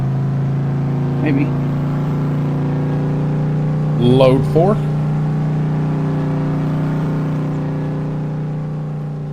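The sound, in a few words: loud truck engine running during field work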